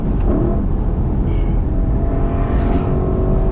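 A Lexus LC500 Convertible engine revving: a loud, sustained dense roar with a steady high whine, close and continuous with no breaks and no talk over it.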